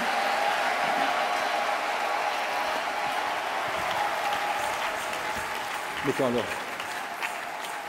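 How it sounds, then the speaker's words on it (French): An audience at a church tabernacle gathering applauds steadily for several seconds, a dense sustained clapping that fades slightly toward the end as someone speaks briefly over it. "Applaudissons encore."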